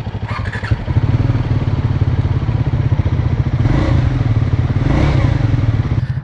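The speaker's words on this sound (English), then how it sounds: "I'm going to fire up the Scrambler 400." Triumph Scrambler 400X motorcycle engine firing up, a brief cranking clatter then a loud, steady close-up idle thump with slight revs.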